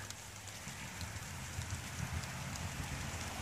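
Rain falls on a backyard vegetable garden with corn, beans and squash, a steady even patter with soft drops pattering throughout, no voices.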